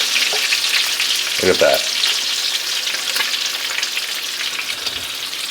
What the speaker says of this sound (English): And get them right in that nice grease.